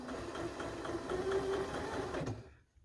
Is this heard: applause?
no